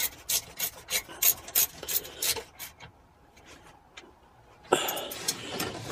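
A ratchet fitted with a screwdriver bit tightens a screw, making a close series of raspy clicking strokes in a steady rhythm, then a brief pause and a final burst of grinding.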